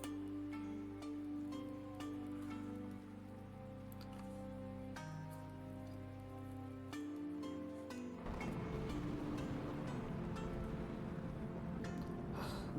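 Rain falls as a soft, steady patter through an evening scene, faint and continuous under a quiet musical background, turning to a denser wash of drops near the end.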